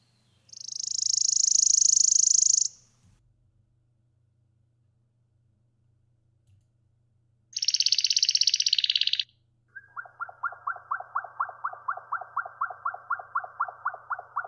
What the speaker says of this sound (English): A rapid, dry, insect-like trill.